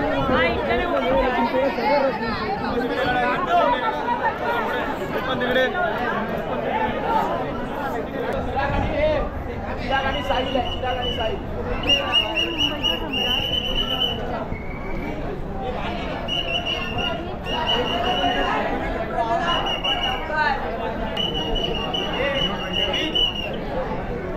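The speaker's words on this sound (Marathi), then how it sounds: "खेतवाडीचा मुंबईचा सम्राट बघायला खूप गर्दी आहे इथे पण" A large crowd chatters at the Khetwadi Ganesh pandal in Mumbai, where a loud, constant hubbub of many voices fills the space and a sharp whistle-like tone recurs in the middle stretch.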